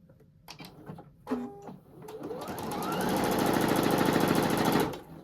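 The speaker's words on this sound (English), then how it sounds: "I'm going to sew right on that line." Sewing machine stitching quilt squares along a diagonal line, a steady rapid mechanical whir after a few soft clicks and fabric handling, running close and alone for about three seconds.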